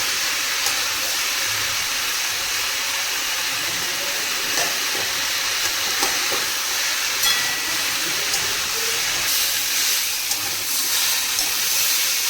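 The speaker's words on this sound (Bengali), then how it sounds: "পেঁয়াজ আর কাঁচা লঙ্কা দেওয়ার পরে ভালো করে ভেজে নেব।" Sliced onions and slit green chillies fry in oil in a pan, giving a steady, close, hissing sizzle that holds without a break.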